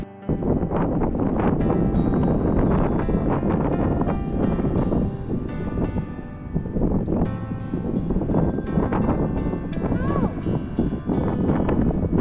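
Strong gusting wind during a heavy snowstorm in Toronto, a loud continuous roar with buffeting swells against the microphone, no talk over it.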